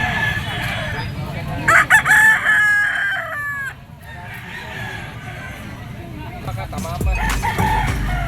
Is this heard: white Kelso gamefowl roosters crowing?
yes